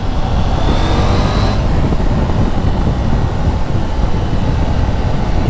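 Husqvarna Svartpilen 801 motorcycle engine revving hard and building quickly while riding, a loud steady roar mixed with wind and road rumble, with a rising whine in the first second and a half.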